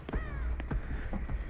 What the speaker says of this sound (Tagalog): may ibon na, Mike.